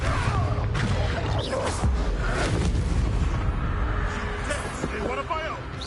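Game explosions from the Confringo blasting spell in Hogwarts Legacy, booming bursts and crackling debris over continuous combat noise, loud and close, with voices talking throughout.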